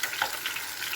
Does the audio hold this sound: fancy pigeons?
no